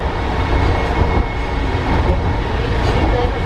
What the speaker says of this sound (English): we just got on something called an air train